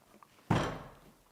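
A single heavy wooden door thuds shut at a campsite, a close, muffled bang with a short fading tail after near silence.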